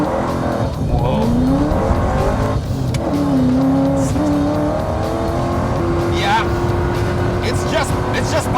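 An 800-horsepower car roars loudly on a runway, its engine note climbing through rising revs with tire squeal, then holding a steady high drone as the car pulls away, all under constant wind and crowd noise.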